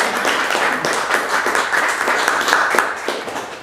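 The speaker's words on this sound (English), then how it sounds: "Can we give Catrina a round of applause?" A crowd clapping in steady applause for a speaker at an indoor talk event, many hands close together, continuing throughout with a slight fade at the end.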